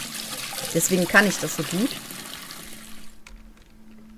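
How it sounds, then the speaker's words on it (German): A bucket of water is tipped into a sink in the aquarium game Aquarist, giving a soft splashing pour that trails off under someone speaking German. "Ich bin geboren dafür, um Wassereimer in der Spüle auszukippen."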